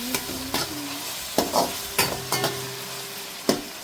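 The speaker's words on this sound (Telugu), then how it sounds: "ఇప్పుడు దీంట్లో టొమాటోస్ ఇంకా కొంచెం కొత్తిమీర, కరివేపాకు తీసి పెట్టుకున్నాం, అవి 2 వేసేసుకొని మళ్ళీ ఒకసారి ఫ్రై చేసేసుకోవాలి" Onions sizzle in a pan with tomatoes, coriander and curry leaves for a Rayalseema uggani, under a steady frying hiss broken by several sharp scrapes and knocks of a stirring spoon, close and fairly loud, with no voices.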